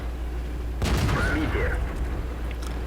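A T43 medium tank fires its cannon in World of Tanks: one sharp, close blast followed by a short rumbling decay over low background hum.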